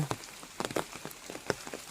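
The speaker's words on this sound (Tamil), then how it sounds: "பயங்கர மழை" Heavy rain pattering steadily on a surface nearby, with dense irregular drop hits throughout and no voices.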